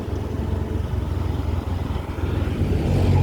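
Cars and motorcycles crawl through a traffic jam on a winding mountain road toward Lake Maninjau in West Sumatra, engines idling and revving close by in a continuous low rumble that grows louder toward the end.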